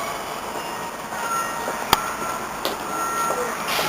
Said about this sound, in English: There's the new tram, the test run.